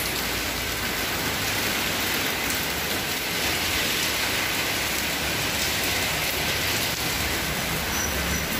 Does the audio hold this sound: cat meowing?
no